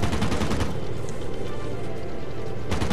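Aircraft machine gun fire in the World of Warplanes beta, heard as dense, continuous rapid bursts of gunfire. The firing is loud and grows heavier at the start and end of the stretch.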